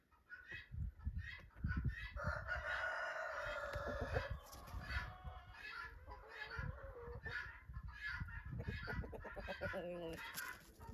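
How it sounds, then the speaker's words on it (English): Chickens cluck and a rooster crows on a farm early on a winter morning, with close, busy clucking throughout and a longer crow rising over it. "There's a rooster dance already happening and the sun is barely up."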